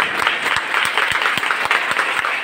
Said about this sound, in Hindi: ढेर सारी तालियां खड़े होकर बच्चियां हमारे प्राचार्य डॉक्टर अनुपम नागर सर के